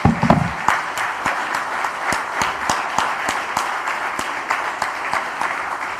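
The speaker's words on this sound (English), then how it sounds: "I would like to stand up for a round of applause for you" A crowd applauds at the Republic India Economic Summit 2022, with steady, sustained clapping from many hands that stays loud and even for several seconds.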